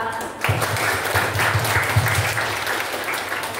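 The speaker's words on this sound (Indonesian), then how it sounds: "saya undang Bapak Ibu untuk memberikan aplaus kepada" Audience applause at a parents' meeting of SMA Kristen Kanaan in Cianjur, a dense burst of many hands clapping that starts suddenly and continues steadily in a room.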